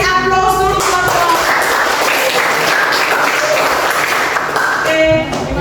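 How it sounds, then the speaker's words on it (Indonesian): Loud applause from a room of classmates during a group discussion session, dense continuous clapping sustained for several seconds with a few voices mixed in at the edges. "Kita kasih aplaus dulu teman-teman"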